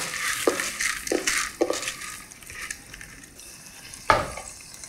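Rice toasting in butter in a pan for pilaf is stirred with repeated scraping strokes over a soft sizzle, close by, with a sharper clack of the utensil against the pan near the end.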